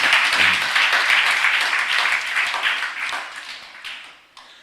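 A church congregation clapping loudly, a dense burst of applause that holds steady for several seconds and then fades out.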